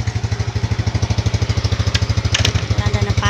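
A motorcycle engine warms up at idle nearby, chugging in a fast, even run of loud thumping pulses with a faint rattle riding on top.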